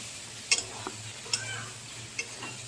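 A spoon stirs poppy seed paste into pointed gourd frying in oil in a pan. Sharp ticks of metal on the pan come a few times over a soft, steady sizzle.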